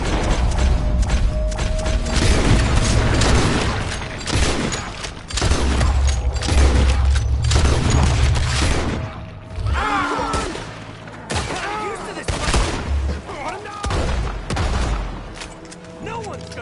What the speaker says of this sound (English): Come on, shoot them up.